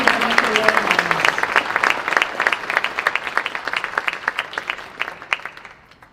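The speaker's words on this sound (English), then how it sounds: "Can we have a round of applause for our 4-year academic award winners?" At a senior awards night, the audience applauds the four-year academic award winners with lively clapping. A voice is briefly heard at the start, and the clapping thins to scattered claps before fading out.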